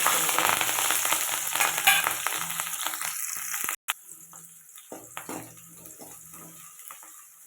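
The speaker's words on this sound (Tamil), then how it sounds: "கடுகு நல்லா பொரிய ஆரம்பிச்சுக்கிச்சு" Mustard seeds and green chillies fry in oil, sizzling and crackling loudly with small popping spatters, then dropping off sharply and continuing as a quieter fry with scattered pops.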